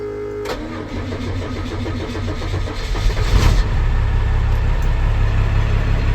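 Cummins 5.9 12-valve diesel truck engine cranking and catching, then settling into a loud, close, rough clattering idle that rises briefly in revs before holding steady, no voices.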